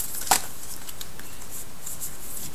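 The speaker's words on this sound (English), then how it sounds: "I'm just going to continue shuffling." Soft, steady papery rustle of a deck of oracle cards being shuffled by hand, with one sharper snap early on and no voices.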